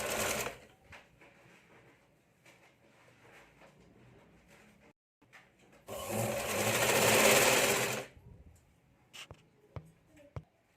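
A sewing machine stitches a line on blouse fabric, its motor whirring loudly in one steady burst of about two seconds midway, with quieter handling and rustle before and a few sharp taps afterward, close up and without talk.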